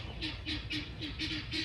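Guinea fowl on a farm give a rhythmic series of about seven repeated harsh calls at a steady pace, moderately distant and fairly quiet over low background rumble.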